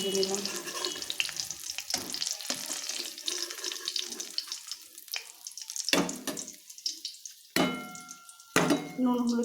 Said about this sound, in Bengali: এইভাবে সবগুলো পনির ভেজে নিলাম